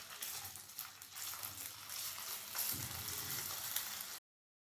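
Sausages frying in an oiled pan for a sausage and bean stew, giving a steady close sizzle and crackle that swells slightly partway through before cutting off abruptly.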